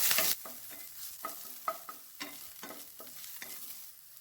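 Ginger garlic paste and chopped onion frying in a pan for a kids' lunch box dish, with a soft sizzle under repeated scraping stir strokes of a spoon at a steady, uneven rhythm, close and moderately quiet.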